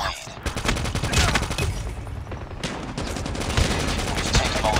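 Rapid automatic gunfire from a shooter video game rattles almost continuously through the clip, loud and dense, with a brief lull partway before the bursts resume.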